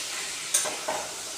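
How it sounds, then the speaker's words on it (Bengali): Pumpkin, cauliflower and potatoes frying in hot oil in a wok are stirred, a steady soft sizzle with two quick scraping stir strokes, close and without voices. "কুমড়ো, ফুলকপি, আলু এগুলো সব দিয়ে দিচ্ছি, দিয়ে ভালোভাবে নেড়ে নিচ্ছি।"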